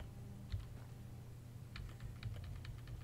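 Faint computer keyboard clicks come in scattered bursts, a single tap and then a quick run of keystrokes, quiet and close over a low background hum.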